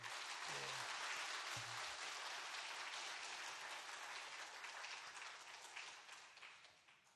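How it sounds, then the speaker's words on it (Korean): Church congregation applauding to welcome a missionary speaker at a worship service, a steady wash of clapping throughout that tapers slightly toward the end, with no voices over it. "우리 나오실 때 오늘 박수로 환영하겠습니다."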